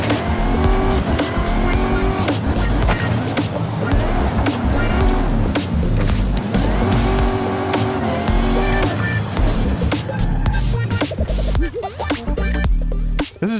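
A race car in a drag strip video game roars at high revs while tires squeal and skid, loud and dense throughout with shifting engine pitch and no pauses.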